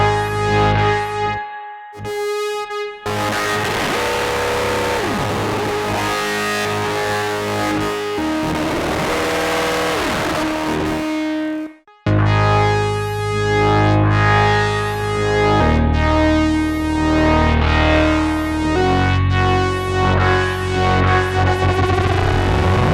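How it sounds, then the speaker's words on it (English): A synthesizer played through an overdrive pedal sustains held notes while LFO-driven filter sweeps rise and fall rhythmically. The sound is loud, distorted and buzzy, with a brief dropout near the middle. "we can do these cool kind of sweeps with LFOs here"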